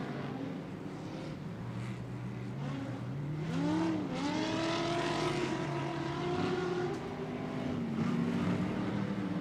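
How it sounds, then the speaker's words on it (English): Ultra4 off-road race trucks lapping a track at night, engines droning in the distance with rising and falling pitch as they pass through a chicane, moderately faint with no talk. "Horschel crosses under the start-finish line, completing another lap, headed through the Walker Evans Racing chicane"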